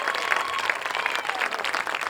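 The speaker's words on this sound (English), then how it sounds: "One more round of applause for our soloists, Vincent Kajan and Jeremy Park," An audience at a high school spring music gala claps steadily for the soloists, a dense, even patter of many hands without voices.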